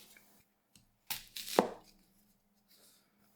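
A 240mm AEB-L gyuto chef's knife with G10 scales cuts through an onion, giving a short burst of crisp crunching and slicing with one sharp thud as the blade meets the board, then quiet.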